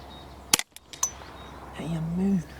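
A single sharp crack from a semi-automatic rimfire rifle firing Nitro HV ammunition, followed by a brief fainter echo and then a voice speaking.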